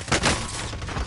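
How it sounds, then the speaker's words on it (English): Distant gunfire in a Call of Duty Plunder-style video game match, a quick burst of several muffled shots in rapid succession. "I hear gunfire."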